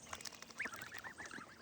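Ducklings and goslings by a pool in a grassy yard give quick, soft quacks and peeps, a brief scattered burst of small calls heard faintly and up close.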